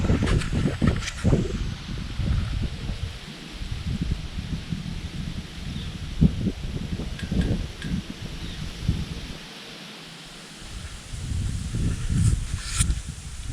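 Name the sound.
strong wind blowing through woods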